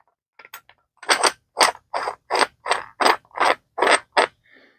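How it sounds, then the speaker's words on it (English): A cap is screwed onto a World War II Japanese canteen, giving a close run of about nine short, evenly spaced scraping clicks of the threads, clear and alone. "Just screws right on there."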